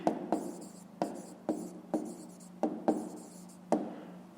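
A pen scratches across paper while someone writes out a fifth-grade math exercise, with short strokes and taps in an irregular rhythm, close and quiet, with no talking.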